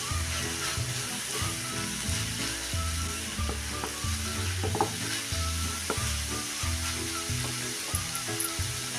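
A yellow radish vegetable dish is stirred in a pan, giving a soft, continuous sizzle with repeated scraping and clattering stirs, fairly quiet and close, with no talking.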